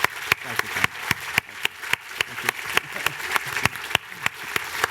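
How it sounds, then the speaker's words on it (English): An audience at a book festival applauds author Rory MacLean with continuous crowd clapping, sharp louder individual claps standing out in a rapid irregular rhythm, fairly close and sustained throughout. "please, big round of applause,"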